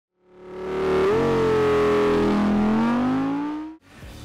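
A 2021 Ram TRX pickup with a 702-horsepower 6.2-liter V8 accelerates hard. The engine note swells in a loud, rising drone, shifts once, climbs again and then cuts off, with no talking.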